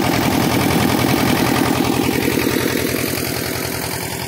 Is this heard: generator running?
yes